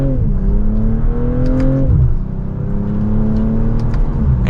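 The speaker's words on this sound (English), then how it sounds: "And with one last acceleration, that's going to wrap it up for the 2025 BMW M440i" 2025 BMW M440i coupe accelerating, a loud steady engine drone rising in pitch, dipping briefly at a shift, then climbing again, with no talk over it.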